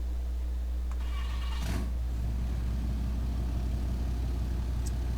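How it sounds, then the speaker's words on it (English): A Dodge second-generation single-cab pickup built from an old plow truck in Farming Simulator 22 cranks briefly, then its engine catches and settles into a steady, low idle with no talking. "here's the startup though of the truck"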